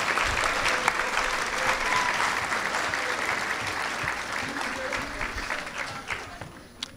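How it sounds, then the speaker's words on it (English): Sustained, dense applause fills a hall for senior inductees at a 2019 honor society induction ceremony, loud at first and gradually thinning toward the end with a few louder claps. "Ladies and gentlemen, a round of applause for our senior inductees that have been here."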